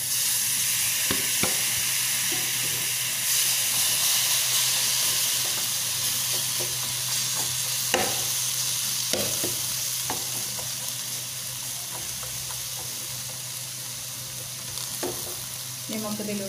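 Tomato goes into hot oil in a pan for fish head curry and sizzles with a steady bright hiss. Occasional stirring clicks and scrapes sit over a low continuous hum. The sound is close, with no talking.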